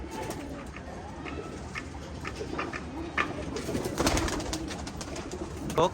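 Several tournament flying pigeons coo softly and repeatedly nearby, their low, throaty calls overlapping with occasional light flutters and clicks.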